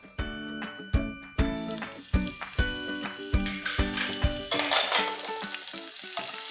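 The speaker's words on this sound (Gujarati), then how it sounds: "એકદમ સોતળવાનું છે." Chopped green chillies and curry leaves sizzle and sauté in hot oil in a pan, with loud crackling frying and a series of rhythmic metallic scrapes and clanks from stirring.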